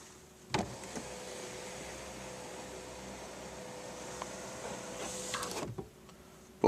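The motorized rear privacy sunshade of a Lexus LS600h glides with a steady electric motor whir for about five seconds, starting and stopping with soft clunks, close and alone in a quiet cabin.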